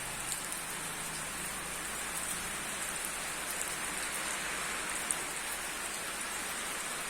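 Steady rain falls on a rural countryside with broad, even hiss of drops on surfaces throughout, fairly close and continuous, with no voices.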